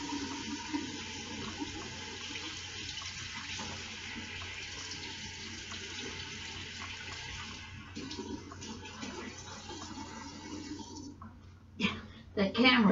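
Tap water runs steadily into a sink to wet a paper towel, a continuous hiss under ongoing talk, ending with a few louder clatters.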